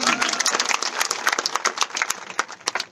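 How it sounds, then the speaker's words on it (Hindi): Applause and clapping from a crowd at a Chhindwara, Madhya Pradesh political rally, dense and continuous with sharp claps throughout, moderately loud with some vocal crowd noise mixed in. "ठोको ताली"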